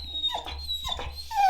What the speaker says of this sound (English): The dogs didn't follow, awaiting their instructions from Samantha.